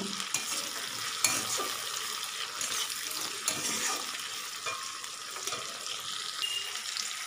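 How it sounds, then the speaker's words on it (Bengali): Onion and tomato frying in a wok, a steady broadband sizzle with scraping stir strokes and occasional clinks throughout, close and fairly loud with no talking. "তো কড়াই পেঁয়াজ আর টমেটোটা দিয়ে দিয়েছি, ভালো করে ভেজে নেব।"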